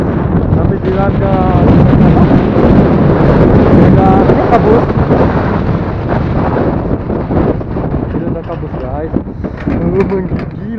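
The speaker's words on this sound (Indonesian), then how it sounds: "Oh guys, ini ada angin sekarang guys." Strong wind buffets the microphone during a ride to Genting Highlands, a loud continuous roar throughout with a person talking over it.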